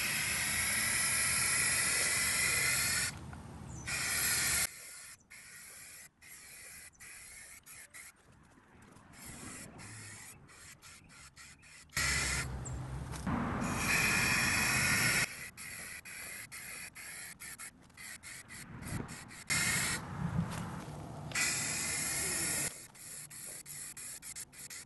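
Spray primer hisses steadily onto a large painted part with the model-number area taped off, in long continuous bursts separated by brief pauses, close and even, with no voices.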